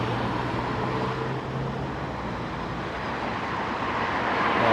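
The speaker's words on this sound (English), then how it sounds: "traffic is slow enough" Steady roar of city traffic on a downtown street in Flushing, Queens, New York City, a dense broadband rush of passing vehicles with no distinct horns, growing slightly louder toward the end.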